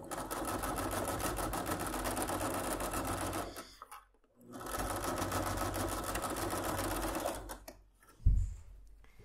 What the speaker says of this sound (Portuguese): E agora eu vou passar uma costura aqui para finalizar